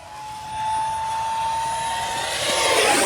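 Arrows Viper 50mm electric ducted-fan RC jet making a full-throttle pass, a steady high-pitched whine with a rising rushing roar as it sweeps close overhead, loud and continuous with no talk.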